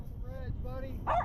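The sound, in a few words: dog barking on a fishing boat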